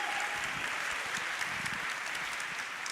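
Audience applause fills a room, a steady wash of many hands clapping at moderate level, continuous and unbroken, with no talking.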